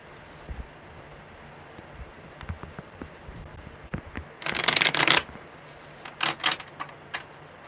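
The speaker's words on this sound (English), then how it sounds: "one more good shuffle" Scattered taps and clicks of a card deck lead into a loud riffle shuffle, then a few sharper bursts as the cards are bridged and squared up.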